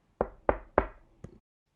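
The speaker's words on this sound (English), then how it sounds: "he was woken by a knock at the door" Four knocks on a door, the first three firm and evenly spaced, the last one lighter and slightly delayed, heard close and alone.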